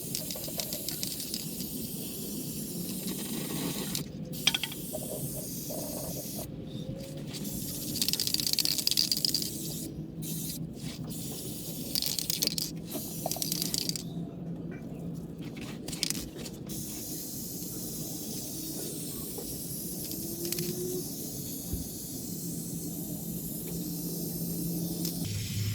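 Undercoating sprays from a can onto a car's fuel and brake lines in steady hissing bursts broken by short pauses and faint rattles, close and alone without talk.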